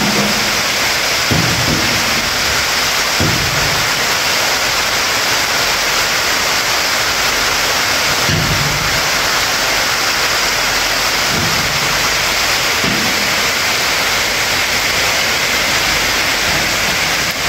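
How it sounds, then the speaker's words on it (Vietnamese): Steady, loud rain falls on a mountainside, a dense continuous hiss with a few faint low thumps beneath it and no speech. "một cái thôi mà trời đã mưa nè"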